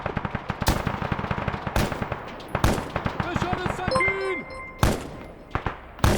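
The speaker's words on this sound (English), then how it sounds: "this dude's firing at silhouettes that he sees" Gunfire in a military video game: rapid automatic bursts and heavy single shots crack loudly and close, with sharp thuds and some distant firing between them.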